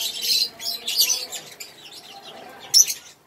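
African lovebirds chirp in sharp, high bursts near a bantam chicken, a few quick calls clustered early and a bright final chirp near the end, close and fairly loud with no talk.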